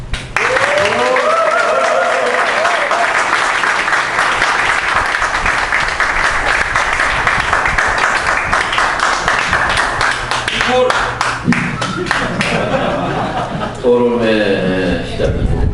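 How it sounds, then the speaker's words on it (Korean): Loud, sustained applause from the audience at a Korean debate forum on tuition fees, dense and close through most of the clip, with voices and some speech surfacing near the end. "토론의 시작이고 가장 뜨거운 박수가 나왔습니다."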